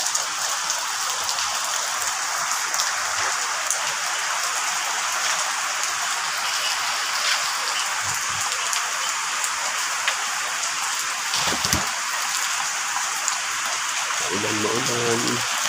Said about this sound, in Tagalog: Medyo malakas ang ulan.